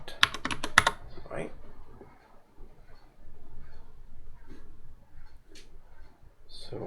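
Quick bursts of clicking computer keyboard keys open the sequence, followed by a few scattered key taps and faint clicks under quiet background room noise; a voice is briefly audible.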